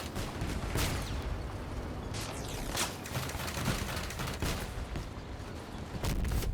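Vehicle-mounted weapons fire in the combat game Crossout: repeated sharp shots and bursts at irregular intervals, some loud and close, others quieter, over a constant dense battle din.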